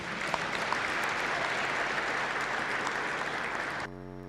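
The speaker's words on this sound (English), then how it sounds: "Let's give that a round of applause" Graduation ceremony crowd applauds the presented candidates, a steady wash of clapping from many hands at moderate volume that stops abruptly.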